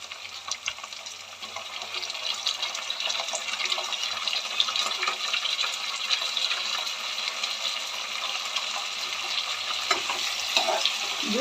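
Brinjal pieces fry in hot oil for vangi bhath, giving a steady, fairly close sizzle and crackle that runs unbroken throughout with no talking.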